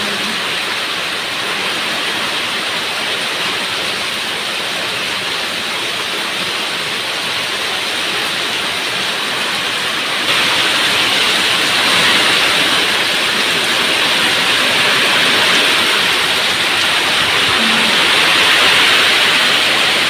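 Heavy rain pours down in a steady, dense hiss that fills the whole scene, growing noticeably louder about halfway through and staying strong to the end.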